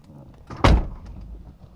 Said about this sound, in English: So he's just opening the door to check